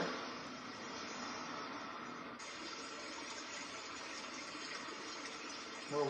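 Water nature track on a Sunrinse alarm clock: a steady rushing, running-water wash that holds evenly for several seconds, with a brief knock near the end.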